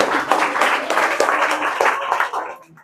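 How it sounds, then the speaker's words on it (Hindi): Children in a classroom clap together at a teacher's request, a dense, steady burst of applause that tapers off near the end. "अच्छा जोरदार ताली बजा दीजिए।"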